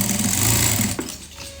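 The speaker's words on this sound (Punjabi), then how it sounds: "ਹੁਣ ਇਹਦੀ ਬਿਲਕੁਲ ਕਿਨਾਰੇ ਕਿਨਾਰੇ ਜਿਹਾ ਸਿਲਾਈ ਲਗਾਣੀ" A sewing machine runs steadily for about a second, stitching close along the folded edge of a plazo pant belt, then stops; loud and close, with no talk.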